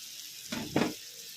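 Salmon frying lightly in a pan gives a quiet background sizzle and then two brief louder bursts of hissing and stirring close together, with no voices.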